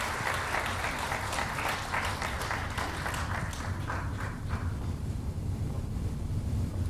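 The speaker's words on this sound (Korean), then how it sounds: "큰 박수로 맞이해 주시기 바랍니다." Applause from the audience at a Yongin social welfare policy presentation as the association president is welcomed to the stage, steady clapping for about five seconds that thins out amid a low rumble.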